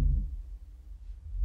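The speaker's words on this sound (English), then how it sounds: "So the team now choose to experiment with an alligator call." A Chinese alligator call pitched three octaves lower turns into a deep, quiet low rumble that throbs and swells briefly before fading and rising again at the end.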